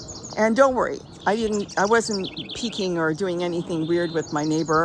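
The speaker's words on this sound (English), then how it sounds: "I love listening to the birds sing." Birds chirp and sing in a front yard garden in spring, high and light, under someone talking close by.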